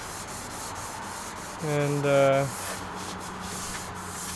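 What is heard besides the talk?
sanding a car body by hand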